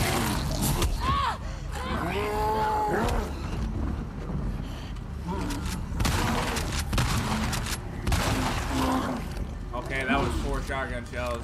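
Shotgun blasts ring out in The Last of Us Part 2 gameplay during a frantic chase. Repeated booming shots mix with a panicked voice talking and shouting over a dense, chaotic game soundscape.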